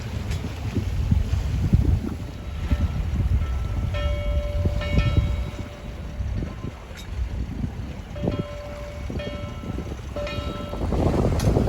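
A sailboat heading off Charleston runs under double-reefed main and full headsail with the engine off, and steady wind rush and water wash fill the air while faint creaks and tonal whines from the rigging come and go.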